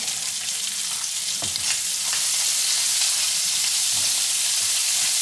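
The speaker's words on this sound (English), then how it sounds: "I used 3 pieces of bacon. And all I'm about to do now is brown it." Bacon strips browning in a pan alongside nearly done sausage, a loud, dense hissing sizzle with scattered crackles and a couple of low stirring knocks, close up and without talk.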